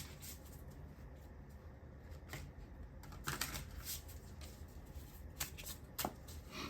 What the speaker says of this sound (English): let me shuffle the cards and see what comes out for you.